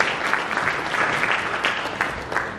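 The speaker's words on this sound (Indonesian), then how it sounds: "Tepuk tangan bagi Allah." A church congregation at a thanksgiving service of the Papua provincial government bursts into applause, a steady patter of many hands with a few sharper claps standing out, at moderate loudness.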